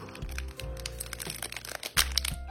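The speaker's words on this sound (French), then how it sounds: "Ces boosters se déchirent vraiment très facilement." Crackly tearing of the foil wrapper on a Chinese Pokémon card booster pack, several sharp crinkling rips close by with a bright burst near the end.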